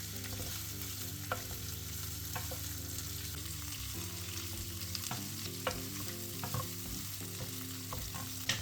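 Meat for çökertme kebab frying in butter in a pan while being stirred, a steady close sizzle with scattered scraping clicks throughout and a low constant hum underneath, no talking.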